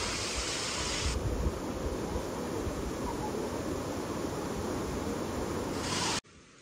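Nhavankond waterfall at Talavade, heard in the rain: a dense, steady rushing roar of falling water, loud and unbroken, with no voices until it cuts off abruptly at the end.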